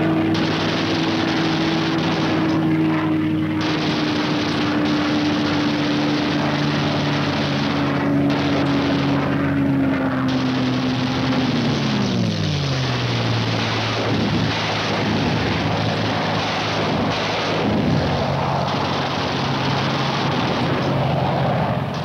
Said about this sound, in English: Skimming along at maximum speed, the fighters pair off and go to work